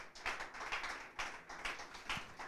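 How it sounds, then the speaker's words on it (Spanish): A church congregation at a special service breaks into applause: a loose, moderately distant patter of many hands clapping in uneven bursts, with no talk over it. "Dale un aplauso a Cristo"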